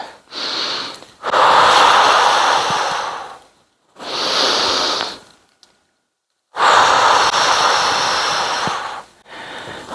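Loud, breathy exhalations during a Pilates workout with dumbbells, three long forceful outbreaths separated by short pauses, close and without speech.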